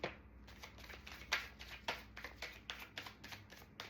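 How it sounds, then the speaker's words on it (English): Tarot cards being shuffled in a series of quick riffling bursts, close up, about a dozen rapid flicks with no talking. "2 more shuffles."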